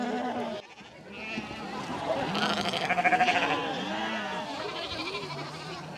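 Several sheep bleat in a rural Icelandic farm setting, with wavering calls overlapping and recurring throughout at moderate distance; a faint voice may be present beneath the animals.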